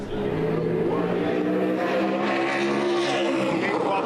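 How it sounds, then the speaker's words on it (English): Race cars circle a speedway during pole qualifying, a dense, loud engine roar that holds steady with rising and shifting harmonic tones as the cars lap nearby. "We're getting really good speeds out of the cars now qualifying."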